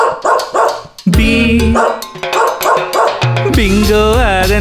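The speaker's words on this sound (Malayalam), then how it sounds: "കർഷകൻ വളർത്തിയ നായ്ക്കുട്ടി ബിങ്കോ അതിൻ പേര്" A cartoon-style dog barks several times in quick yips and whimpers amid a sung children's nursery rhyme about a farmer's dog called Bingo, with bright music and singing voices throughout.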